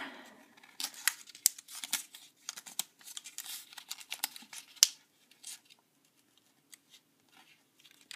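Paper squash-folded into an origami flower, heard as close, crisp crinkles and sharp creasing snaps in irregular bursts, busy at first and then thinning out to scattered faint rustles.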